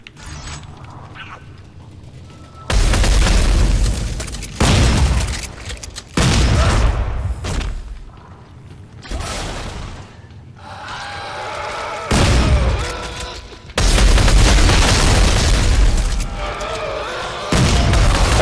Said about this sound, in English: I was about to shoot another rocket, and you stepped directly in front of me.